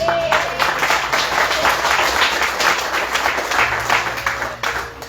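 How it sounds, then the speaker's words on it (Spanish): Church congregation claps in praise of the Lord, a dense, steady wash of many hands filling the room, with a faint voice or tone briefly audible at the start. "Alguien alaba al Señor con sus palmas."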